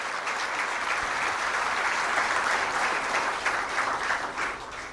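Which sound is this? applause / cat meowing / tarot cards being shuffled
applause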